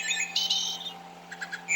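A Wild Republic Audubon plush wood thrush toy plays a recorded call: a couple of bright, fluting whistled phrases followed by a quick trill, close and isolated over faint electronic hum.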